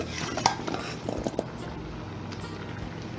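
Tanya, yam and sweet potato pieces dropped into a pot of Caribbean conch soup, with quick clinks and knocks of utensil against pot and soft splashes, close and low in level.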